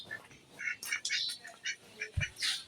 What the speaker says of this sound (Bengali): আর এই সব হাঁস